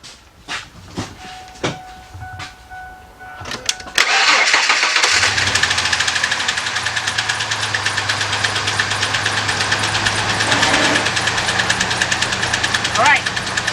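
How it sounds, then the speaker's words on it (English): A 1998 Ford F-150 pickup with the 4.2 engine and multiple misfires cranks after a few clicks and knocks, then catches and settles into a loud, rough, uneven idle that runs steadily close by. "let's start the vehicle up."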